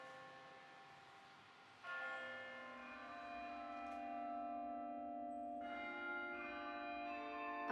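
A single tower bell strikes once and rings out with a long, shimmering decay. Partway through, its hum swells again. No voices are heard.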